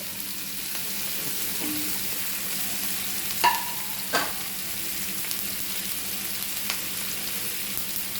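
A pumpkin stir-fry with spluttered mustard seeds sizzles steadily in coconut oil over a high flame, with a few scraping strokes of a spoon through the pieces and faint clinks against the pan.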